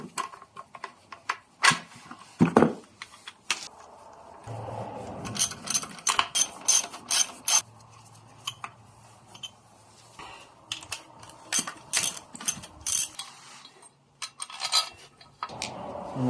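Mechanical clicks and metallic ticks from a ratchet loosening the engine mount bolts on a Honda CR-Z during a K20 swap, arriving in short irregular bursts of ratcheting separated by pauses, close and moderately loud with no talking.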